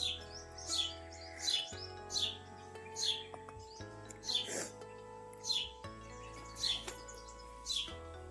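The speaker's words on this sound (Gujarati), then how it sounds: "ચારે બાજુ ચકલા બોલે, બુલબુલ બોલે, કાબર બોલે, બહુ બધા પક્ષી આવે છે." Sparrows, bulbuls and mynas calling from all around, a repeated chorus of bright chirps and tweets in regular bursts over a steady low hum, moderately near.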